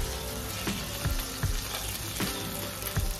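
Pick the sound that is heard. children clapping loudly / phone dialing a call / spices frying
spices frying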